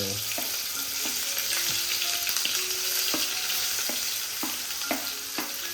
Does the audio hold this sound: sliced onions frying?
yes